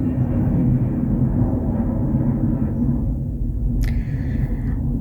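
A jet airliner passes low overhead near an airport, a loud continuous roar with heavy low rumble holding steady throughout, joined near the end by a brief high whine.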